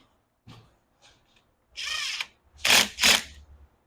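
Impact wrench driving bolts during assembly of a Loncin Xwolf 700L ATV: a few faint ticks, then several short, loud close whirring bursts in quick succession.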